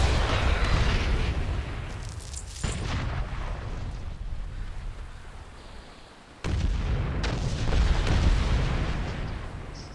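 Cannons being destroyed in World of Warcraft set off heavy booming explosions, several loud blasts with rumbling decay between them, game sound with no one talking.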